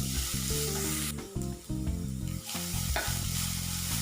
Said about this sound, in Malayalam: ഒരു 1/4 ടേബിൾ സ്പൂൺ മഞ്ഞൾപ്പൊടി ഇത്രയും ചേർത്ത് സിമ്മിൽ വെച്ച് നമുക്കൊന്ന് വഴറ്റിയെടുക്കാം.